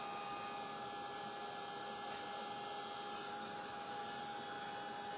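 Steady whirring rush of a hair dryer blowing to dry chalk paste on small craft wreath pieces, continuous and even from start to end with no talk over it.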